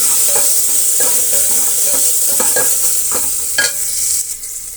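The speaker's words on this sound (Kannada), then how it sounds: "ಒಗ್ಗರಣೆ ಚೆನ್ನಾಗಿ ಫ್ರೈ ಆಗಿದೆ." Onion and curry leaves frying in a pan as a tempering for palak sambar, a continuous close sizzle broken by repeated scraping and clinking strokes of a spoon stirring.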